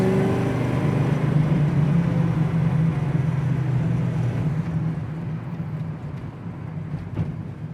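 A 1968 Chevrolet Camaro RS/SS cruising to warm up, its engine holding a steady low rumble with a constant drone that eases slightly toward the end, heard from inside with no talking.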